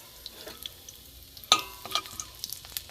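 Whole spices, including chilli, cardamom, cinnamon and cloves, sizzle in hot oil for tempering, with faint crackles and small pops, one louder burst and a few stirring clinks close by.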